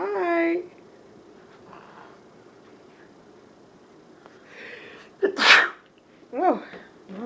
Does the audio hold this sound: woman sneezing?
yes